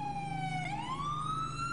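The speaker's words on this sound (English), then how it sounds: "And I think I hear a siren" A police vehicle siren wails in a single rising and falling sweep, fairly faint and distant, with no talk over it.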